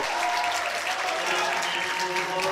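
Steady, dense applause from a crowd at a 10m air pistol men's gold medal match fills the space, loud and continuous throughout.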